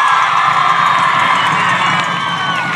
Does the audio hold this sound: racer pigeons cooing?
no